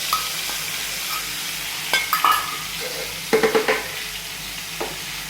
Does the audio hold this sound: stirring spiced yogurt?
yes